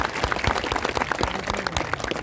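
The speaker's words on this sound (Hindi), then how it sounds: "यदि मेरी बात आपको अच्छी लगी तो ताली बजाना" Audience clapping at a public gathering in Jaipur, steady dense applause from many hands filling the space, moderately loud and continuous throughout.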